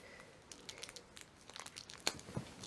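Toy packaging being torn and crinkled open by hand, a run of soft crackling rustles with a few sharper tearing snaps near the end, fairly faint and close, with no talking.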